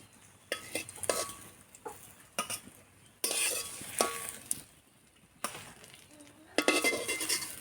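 Pumpkin-leaf chepa puli frying in a pan over low heat, soft sizzling broken by repeated bursts of a utensil stirring and scraping against the metal, close and uneven in rhythm.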